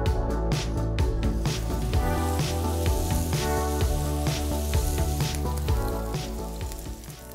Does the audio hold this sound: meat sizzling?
yes